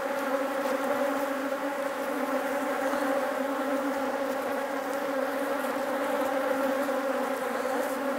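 Honey bees buzz in an open hive, a steady, close, droning hum that holds evenly throughout.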